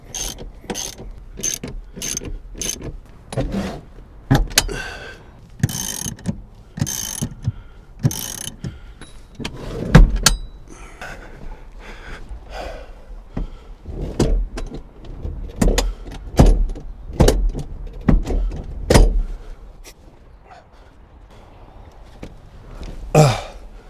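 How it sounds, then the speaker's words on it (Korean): Repeated sharp metallic clicks and ratcheting from a hand tool tightening bolts on a car seat in a Daewoo Matiz, close up, in quick bursts with brief pauses, then a quieter stretch near the end. "확실하게 고정이 되게 제가 볼트 체결을 해보겠습니다."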